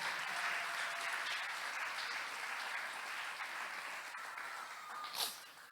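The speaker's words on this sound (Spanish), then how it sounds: "Denle un aplauso fuerte al Señor." A church congregation applauds steadily throughout, a dense wash of clapping that holds at an even level, then tapers slightly near the end.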